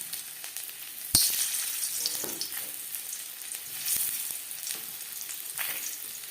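Boiled new potatoes, cut into pieces, fry lightly in a pan with a close, crackling sizzle. Occasional sharp pops and soft scraping stir sounds run through it, and no voice is heard.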